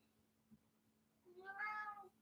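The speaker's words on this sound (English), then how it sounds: "The cat goes outside, has a good old time, rolls around the mud" A single faint, drawn-out cat meow rises near the end of an otherwise quiet indoor moment with a low steady hum.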